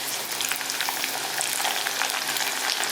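Green chilies fry in hot oil with ginger and garlic for a lemon pickle, a loud, dense, continuous crackle and sizzle heard up close with no talking.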